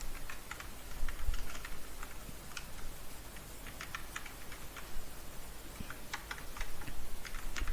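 Rapid typing on a computer keyboard while writing code import statements, with steady, close, irregular key clicks throughout and no voice.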